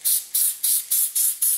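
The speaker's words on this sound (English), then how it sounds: "So I'm spraying them silver." Silver cake colour sprayed from a can onto frosting candy wires laid on wax paper: six short, close hissing bursts in an even rhythm, each fading before the next, with no talking.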